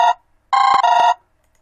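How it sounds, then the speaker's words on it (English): An Android app plays a phone ringtone: a short bright electronic ring, a pause, then a longer two-part ring, loud and clear with nothing else around it. "We should be able to stop and play the ringtone."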